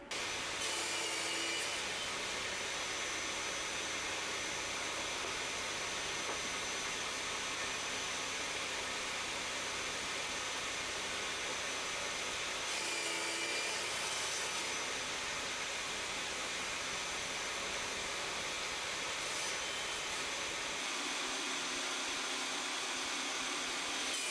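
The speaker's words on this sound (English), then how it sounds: "One more job for the table saw is to just get these bits cut to their final length" Table saw cutting small wood pieces to final length for magnetic poster hangers, a steady loud broadband whine running continuously with brief changes as each cut passes through, no talk.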